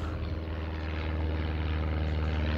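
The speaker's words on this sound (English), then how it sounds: "I do apologise about that plane" A propeller airplane passes overhead, a steady, loud engine drone and propeller throb that fills the whole stretch without fading, with no voices over it.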